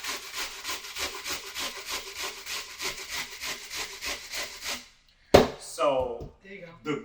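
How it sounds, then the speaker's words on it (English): An onion is grated on a hand grater for a quick succotash and salmon cake meal: rapid, rhythmic, close scraping strokes for about five seconds, then a pause, a sharp knock and a voice speaking. "So why are we cutting onions when we could just be grating onions?"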